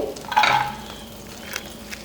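Chopped garlic sizzles in melted butter in a pan for white sauce pasta, a close, steady hiss that swells briefly near the start, then settles into a quieter constant fizz.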